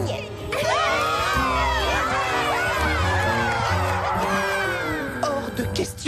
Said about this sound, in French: Je vous demande d'applaudir bien fort Petit Beignet!